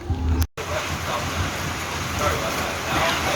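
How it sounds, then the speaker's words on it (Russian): Steady rain falls outdoors on a summer day, a dense, even hiss that holds close and loud throughout after a brief dropout near the start. "Похоже, дождик на весь день зарядил"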